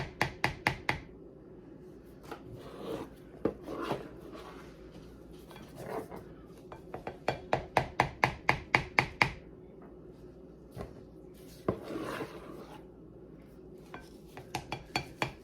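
A spoon scrapes and clanks against a bowl while scooping chocolate brownie trifle layers, with repeated sharp knocks, quick bursts of clicking taps and softer scraping between them, close and fairly quiet, with no talk.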